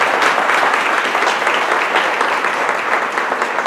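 A loud, dense wave of clapping rises from an audience welcoming Mayor Troxel at a community anniversary event, steady and unbroken throughout.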